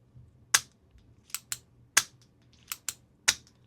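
A Writech Clictek retractable fountain pen is clicked repeatedly: seven sharp, close, crisp clicks in an uneven rhythm over a quiet room background, with no talking.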